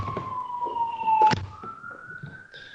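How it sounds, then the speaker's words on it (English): A police car siren wails outside, its long rising and falling tone heard clearly through a window, with a sharp thunk partway through. "the police car outside is really starting to annoy me"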